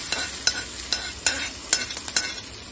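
A spoon stirs a sizzling oil tempering into peanut chutney, with rhythmic scraping clinks against the pan over a soft hiss, close up and without voices.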